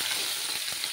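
Ginger paste frying in a pan gives a steady, close hissing sizzle for a brief moment, with a faint scrape partway through.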